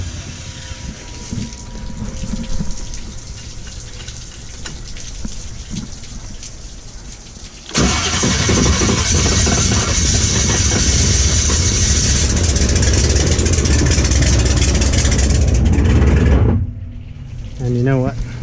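A hot boat engine fitted with slip-in silencers, one cylinder bank's ignition wires unplugged, coughs to life and settles into a loud, steady rumbling idle after a stretch of softer background noise, then cuts off near the end.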